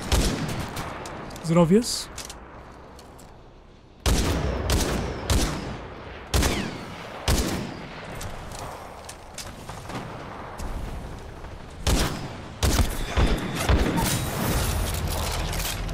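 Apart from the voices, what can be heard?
gunfire in the video game Titanfall 2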